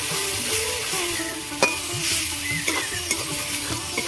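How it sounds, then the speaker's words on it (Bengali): Cumin and coriander powder masala frying and being stirred in a pan for a Bengali lote fish curry, a steady close sizzle with scraping stir strokes and a few sharper clinks, no talking. "জিরে গুঁড়ো দেবো, ধনে গুঁড়ো দেবো, ভালো করে কষিয়ে নেব।"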